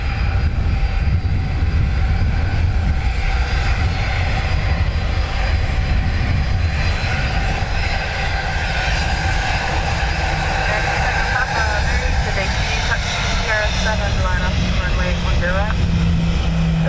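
Airliner engines spooling up at Dublin Airport, with a Virgin Atlantic A330 and a Turkish Airlines A350 involved, a loud sustained roar with rising whining tones heard from a distance while people talk.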